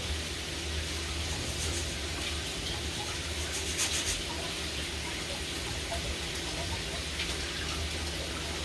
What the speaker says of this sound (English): so I'm gonna go ahead and rinse this off.